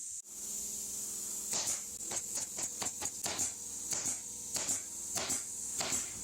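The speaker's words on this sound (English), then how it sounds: "he's stapling some cushions beside me" Someone staples cushions nearby, a series of sharp, irregular snapping bursts over a constant high hiss.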